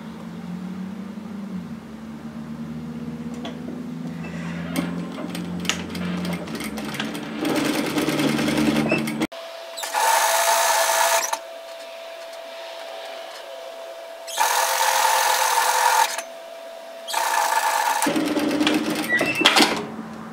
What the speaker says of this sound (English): I always like to sew from the neck towards the wrist